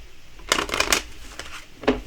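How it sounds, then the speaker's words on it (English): A deck of tarot cards is shuffled by hand in two quick papery bursts, a longer riffle followed by a short snap, close and fairly loud. "And then we're going to do the card shuffle."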